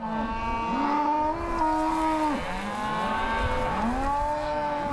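Several cows moo in long, drawn-out calls, some overlapping, over a steady background rumble, with no talking, as the herd is moved down a hill toward home.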